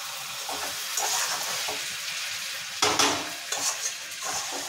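Meat and potatoes fry with spices in a pan, a steady close sizzle broken by scraping stirs and a few louder clattering strokes of the spoon against the pot.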